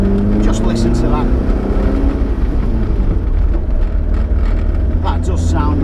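A Porsche 914 engine with freshly set-up carburettors runs on a road test, a steady, loud drone under continuous people talking over it.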